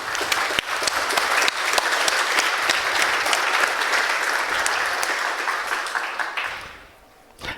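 A conference audience claps in thanks to the host university, Hochschule Bonn-Rhein-Sieg, a full, sustained round of many hands with a few sharper individual claps, fading out near the end.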